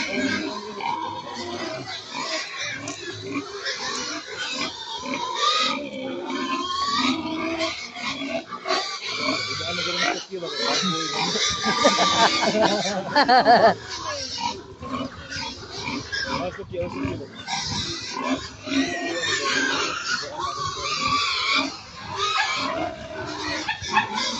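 Pigs grunting and oinking on a small farm in Cebu, with chickens nearby, heard steadily through the clip alongside frequent talk in the foreground.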